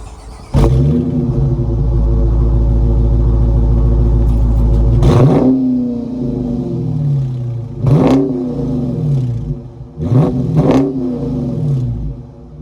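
A 2021 Dodge Challenger R/T's 5.7-liter Hemi V8 cranks and fires into a loud, deep idle, then gives several sharp throttle blips that spike and settle back, close and unaccompanied by voices.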